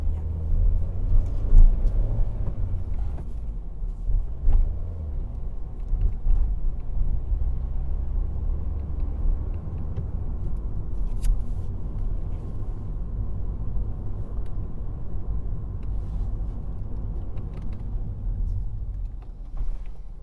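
A car moves off from a stop during a mock driving test in Bletchley, heard from inside as a steady low engine and road rumble with occasional faint knocks.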